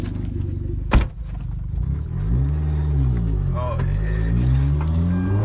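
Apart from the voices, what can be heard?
RSPEC Hyundai Genesis Coupe car on test drive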